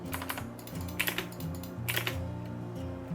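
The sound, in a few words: computer keyboard typing and mouse clicking in CAD software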